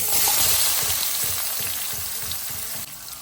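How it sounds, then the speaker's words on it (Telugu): Spices tempering and chopped onions frying in hot oil for an Andhra-style curry, heard as a loud, dense, continuous sizzle close by that fades slightly toward the end, with faint stirring. "పోపులు వేగుతున్నప్పుడే ఉల్లిపాయ ముక్కలు కూడా వేయాలి"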